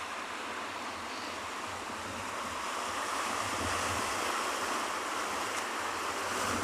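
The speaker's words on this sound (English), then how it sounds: "to be cooled by external conditions such as this lovely cool ocean breeze" Cool ocean breeze and waves at a penguin beach, a steady loud wash of surf mixed with wind buffeting the microphone, continuous throughout.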